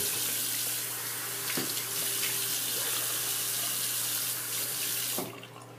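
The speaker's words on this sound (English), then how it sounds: "Rinse off my hands, and we'll get started." Water runs steadily from a tap as hands are rinsed beneath it, a close, continuous splashing hiss with a couple of brief knocks, stopping near the end.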